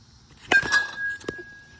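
A 2026 Easton Mav1 Flash metal baseball bat hits a ball with a sharp metallic ping, leaving a clear high tone that hangs and slowly fades, followed by a few faint clatters.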